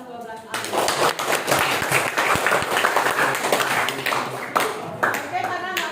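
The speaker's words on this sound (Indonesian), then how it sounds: "Tepuk tangan untuk kelas 12 A." Students in a classroom applaud for class 12 A, with a dense, lively clapping that starts abruptly, runs steadily for several seconds and then thins out near the end.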